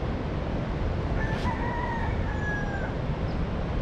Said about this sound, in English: we got a couple of roosters crossing the road